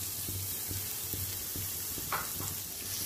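Steady low sizzling of chopped onion frying in oil, with faint stirring clicks and scrapes at a regular pace, no voices.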